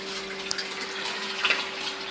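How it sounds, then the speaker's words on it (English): Water steadily flowing from a siphon outlet in a completed aquaponics setup, a soft continuous trickle and splash with a steady tone running beneath it, no voices. "outlet, and it's working without problem. This one with the drip hole."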